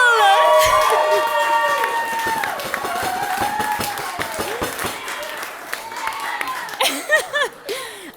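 Wedding guests break into sustained applause at a reception during the speeches, a dense wash of clapping with cheers and laughter mixed in, loud and close, thinning out toward the end.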